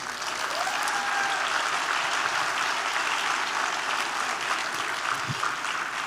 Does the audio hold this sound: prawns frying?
no